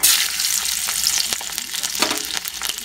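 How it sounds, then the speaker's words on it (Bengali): Whole garlic cloves and black cumin seeds frying in hot oil in a pan, a loud bright crackling sizzle with occasional stirring clatter, alone without speech. "কালো জিরেগুলো ভাজা হয়ে আসলে গোটা রসুনগুলো দিয়ে দেব।"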